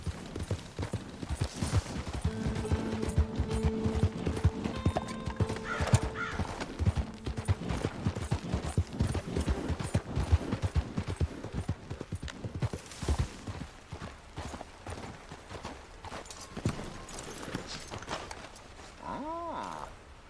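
Steady hoofbeats of a horse in the video game Red Dead Redemption II clip-clop at a trot, fairly close, with scattered background noise and a brief animal call near the end.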